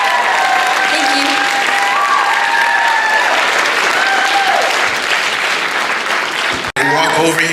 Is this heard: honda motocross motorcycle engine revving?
no